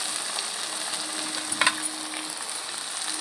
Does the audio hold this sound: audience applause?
no